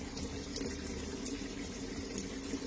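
Water rushes steadily into a washing machine after the water valve is opened, a continuous close hiss of flowing water with no break.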